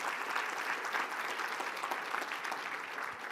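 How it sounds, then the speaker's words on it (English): An audience at a Georgia Chamber rural awards ceremony gives a round of applause, a dense, steady wash of many clapping hands that stays even and full throughout. "Round of applause,"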